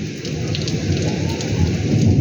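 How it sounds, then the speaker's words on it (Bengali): Heavy rain pours steadily in a dense, constant roar with a deep low rumble underneath, loud and close, no voices. "অনেক বৃষ্টি হইতেছে"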